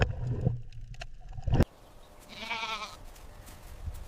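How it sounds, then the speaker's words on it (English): A goat bleats once in a short wavering call after a brief burst of other noise, fairly close and alone, with no talking over it. "Goat. This is a goat."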